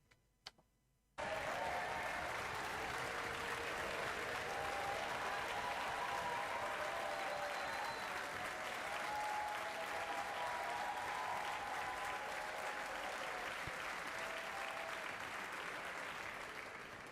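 Sustained applause from MPs in the House of Commons chamber, starting abruptly and continuing steadily as a dense, even wash of clapping from a large crowd with a faint murmur beneath.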